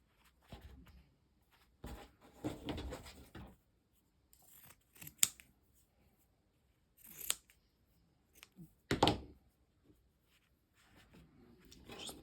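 Scissors snip small pieces of punch needle fabric, giving quiet, crisp cuts in short bursts with pauses between them and no talking.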